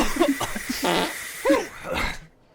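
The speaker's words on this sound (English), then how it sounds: "someone's really cranking up the fart machine out of that Smith." A fart machine lets out a series of loud, close, sputtering blasts of varying pitch and length, with a couple of long wet rasps before it falls quiet.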